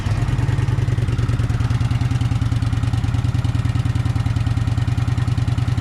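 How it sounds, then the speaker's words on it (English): A Kawasaki VN 900 motorcycle with its completely stock exhaust idles close by, a steady, deep rhythmic thumping that holds an even pace throughout with no voices. "So this is completely stock exhaust."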